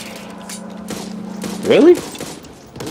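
Gunfire in the video game Back 4 Blood crackles in quick bursts under a player's voice, with a brief rising electronic tone and a louder burst near the middle.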